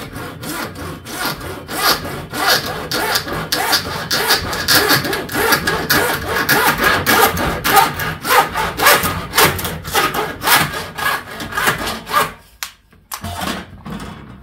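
A Denzel hand saw with 3D-sharpened teeth cuts through wood in loud, close, rapid back-and-forth strokes, a steady rasping rhythm that stops abruptly near the end, followed by a few final strokes.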